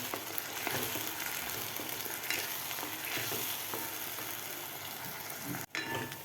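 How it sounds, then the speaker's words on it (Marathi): Onion puree sautéing in a pan for a baingan masala, a continuous soft sizzle with faint stirring, steady throughout with one brief dip near the end, no voices. "आपल्याला ही कांद्याची प्युरी परतून घ्यायची आहे"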